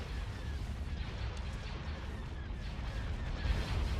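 Turbolaser cannon fire rumbles in the space strategy game Star Wars: Empire at War, a dense, continuous wash of booming blasts and explosions from a large battle, steady and loud throughout.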